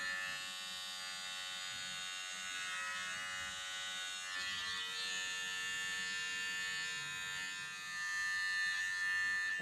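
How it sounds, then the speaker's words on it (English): Small electric hair trimmer shaping a hairline during a home haircut, a steady close buzzing hum running continuously with slight shifts in pitch as it moves against the hair. "you should use a small trimmer and just create the shape you want"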